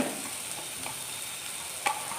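Two medium-sized chopped onions sizzle and are stirred in the oil left from frying pappadam, a steady close crackle with a soft scrape of the spoon near the end and no talking.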